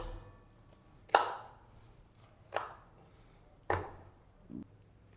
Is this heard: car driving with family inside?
no